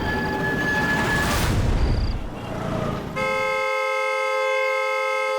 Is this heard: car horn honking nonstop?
yes